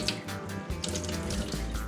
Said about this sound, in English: you're gonna wanna have the water running with my sponge anyway